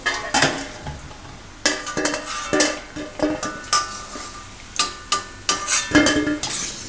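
Methi malai muthiya fry in hot oil, with a faint sizzle under repeated clinks and scrapes of a metal utensil against the pan in uneven bursts.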